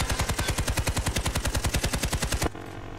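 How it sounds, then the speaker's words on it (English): Rapid automatic gunfire from the video game Army of Two: The Devil's Cartel rattles in a fast, even string of loud shots while targets are being shot. The burst stops abruptly near the end and leaves a low background hum. "Shoot the targets together."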